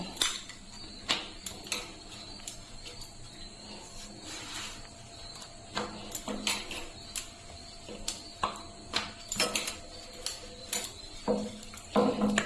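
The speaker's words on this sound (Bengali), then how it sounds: "এখন আমি আবার পাতলা করে বেলে নেব" Spring roll dough rolled out thin with a rolling pin on a floured surface: irregular close knocks and clacks of wood on the board recur through a quiet background, with no voices.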